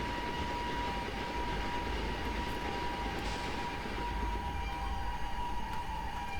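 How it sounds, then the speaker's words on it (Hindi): Simulated train in the MSTS railway simulator game, a steady rumbling approach with a sustained mid tone running throughout, continuous and fairly even in level, with no voices. "सामने ही कोई एक ट्रेन आ रही है"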